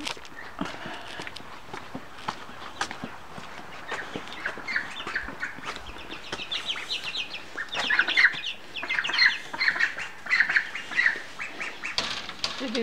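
Backyard chickens cluck and flap their wings in irregular bursts, with footsteps and rustling around them, close and moderately loud throughout.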